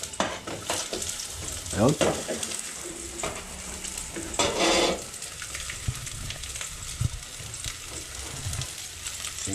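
Onions frying in a pan for tinulang itlog, a continuous close sizzle with stirring scrapes and a few brief clatters; a voice speaks briefly.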